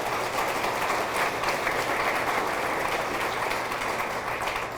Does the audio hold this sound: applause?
yes